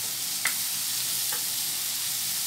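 Ingredients sauté in a pan with a steady, even sizzle, broken by a couple of faint stirring clicks, close and uninterrupted.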